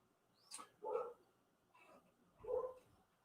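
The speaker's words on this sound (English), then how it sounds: "My dog's barking." A dog barking indoors at a distance, a few short muffled barks spaced irregularly, faint and alone.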